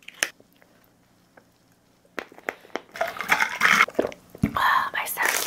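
Someone chews a Mont Shell chocolate snack cake as dessert close to the mic, with soft crushing bites and moist, squishy chewing that builds into dense bursts after a quiet start, along with faint whispery sounds.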